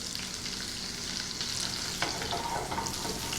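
A beef filet sautés in butter and garlic in a pan, giving a steady, close, crackling sizzle throughout with a few brief stirring scrapes and no voices.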